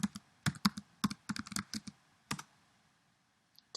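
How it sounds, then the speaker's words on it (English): A password being typed on a computer keyboard in a lecture setting, a quick burst of close key clicks followed by a short pause and one final keystroke. "Type in my password and it transfers the file."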